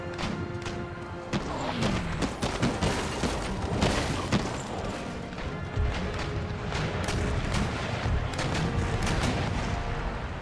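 Naval cannon broadsides from sailing warships in the strategy game Empire: Total War, a dense run of booming shots and crashing impacts that go on throughout, some near and heavy, others layered in the distance.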